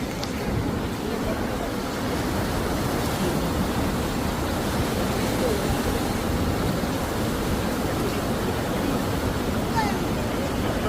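A river flows at the Manikaran hot springs as a steady broadband rush of water, constant and fairly near, with people speaking faintly beneath the roar.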